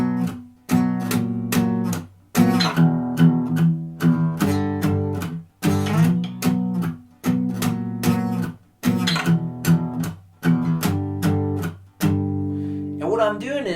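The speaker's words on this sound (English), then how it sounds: "the last section is the bridge section, and it sounds like this." Electric guitar playing the bridge section of a song: loud, clear strummed power chords in rhythmic bursts with brief gaps between phrases, played alone with no talking.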